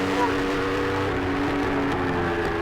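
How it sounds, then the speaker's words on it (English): A Yamaha R1 engine screams at full throttle during a Formula Pacific motorcycle road race, a loud, sustained high-revving roar heard close up throughout. "Ricky Corey is just absolutely letting that R1 throttle fly as he takes over the overall lead again"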